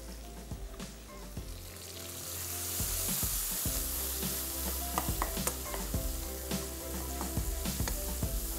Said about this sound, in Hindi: थोड़ा सा इसको मिक्स करेंगे ताकि मसाले की भुनाई बड़ी अच्छी सी हो जाए